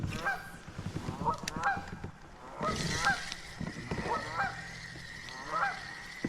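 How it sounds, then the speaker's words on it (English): Geese honk repeatedly by a river in Tennessee, loud and close, in a rhythmic series of harsh calls from several birds, with soft water and background noise beneath. "Got some geese up here."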